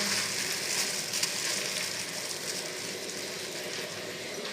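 Corn kernels for popcorn heating in a pan, a soft steady sizzle and hiss held low and even throughout, no popping yet.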